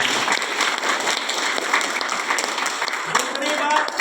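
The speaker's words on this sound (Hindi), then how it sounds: "जोरदार तालियां होनी चाहिए।" Loud audience applause at a seminar, dense steady clapping from a crowd sustained throughout, with a voice briefly audible near the end.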